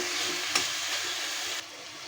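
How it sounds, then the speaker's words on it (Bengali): Chapa shutki (dried fish) bharta with taro leaves frying in a pan, giving a steady close broadband sizzle with one brief stir or scrape near the middle before the sizzle drops a little quieter. "এখন আমি এগুলো ভাজা ভাজা করে ভর্তা করবো।"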